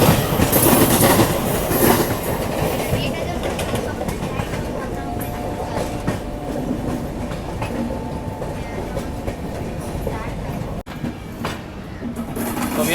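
A passenger train enters Delhi alongside a parallel local train, giving a steady near rumble of wheels and carriage noise throughout, with faint clickety-clack, brief squeals and a voice talking over it.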